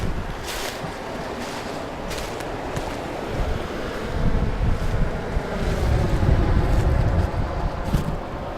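Steady rushing water of a small man-made waterfall diverting water into a creek, broadband noise growing a little louder midway, mixed with wind buffeting the microphone outdoors.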